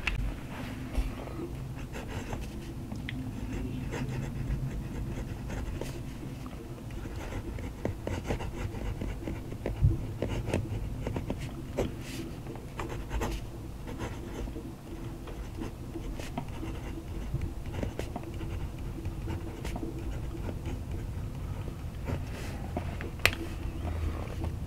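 A fountain pen nib scratches steadily across paper, soft continuous strokes with small ticks and pauses, close and quiet with no talking.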